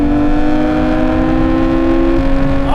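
A Nissan R32 GT-R with twin turbos launching hard, its engine a loud, steady drone of strong harmonics that holds without a break, with a short rise in pitch near the end as the revs climb.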